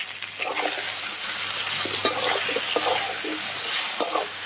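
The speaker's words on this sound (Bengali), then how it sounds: "বেগুনগুলো খুব ভালো করে একদম লাল করে ভেজে নেবো" Eggplant pieces with salt and turmeric fry in hot oil, a continuous close sizzle broken by repeated scraping and clattering as a spatula stirs them around the pan.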